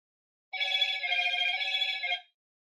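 A telephone rings once for an incoming call, a single close, clear electronic ring lasting under two seconds in an otherwise silent room.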